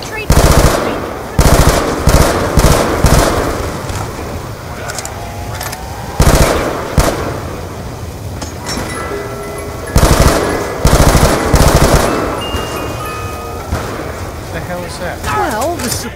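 Rapid bursts of automatic gunfire from Call of Duty Black Ops 2 Zombies, loud, close and repeated in several volleys, with short pauses and game effects between them.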